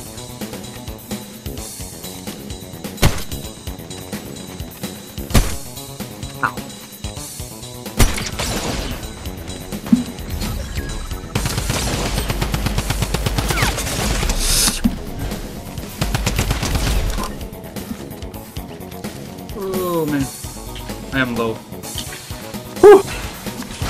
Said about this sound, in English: Watch out, someone's shooting at us.